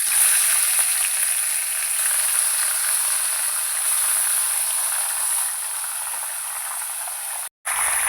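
Marinated goat meat hits hot oil in a pan, producing a loud, steady, close sizzle that holds continuously before a brief cut near the end.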